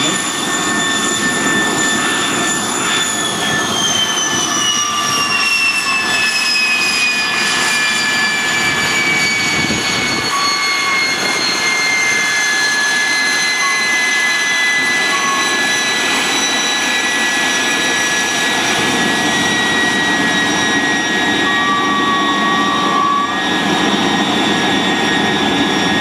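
A Gloster Meteor jet fighter taxis in after flying at Temora, New South Wales, its engines a loud, continuous roar with a high whine that slowly falls in pitch, steady throughout with no talking.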